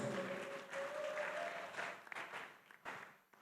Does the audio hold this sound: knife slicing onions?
no